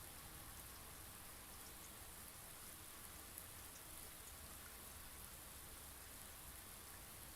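Steady, relaxing rain falls without a break, an even, close hiss of drops on surfaces with no voices over it.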